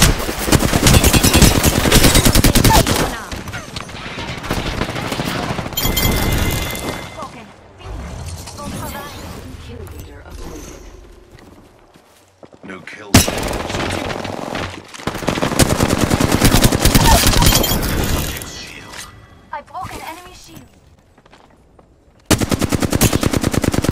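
Rapid automatic weapon fire from the Apex Legends battle royale shooter rattles in loud, dense bursts separated by quieter gaps, with game voice lines and speech heard between volleys.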